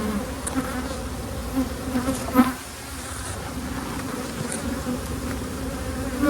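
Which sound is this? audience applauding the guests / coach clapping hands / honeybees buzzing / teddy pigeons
honeybees buzzing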